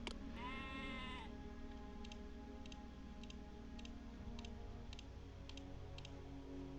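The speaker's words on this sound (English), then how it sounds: "Tons more sheep, holy crap." Sheep bleat from the video game Poseidon: Master of Atlantis, one wavering bleat up front followed by a row of light regular ticks, all quiet and with no talking.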